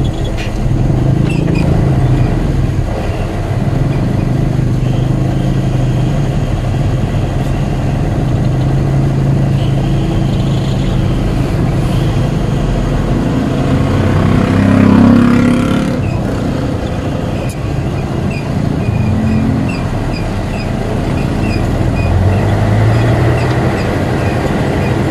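Busy road crowded with hurrying tricycles and other motor traffic, giving a steady, loud wash of engine rumble and passing vehicles that carries on without a break and with no one speaking.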